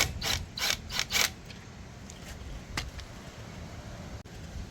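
A T20 Torx bit works screws loose on a lawn mower carburetor, giving a quick burst of four close ratcheting clicks, followed by a few sparse faint clicks and handling noises.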